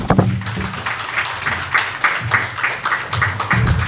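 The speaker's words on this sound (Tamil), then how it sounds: "நல்லா கைத்தட்டலாம்." A crowd at an indoor event claps throughout, irregular loud bursts of many hands with a few low rumbles of movement between, close and sustained, without speech.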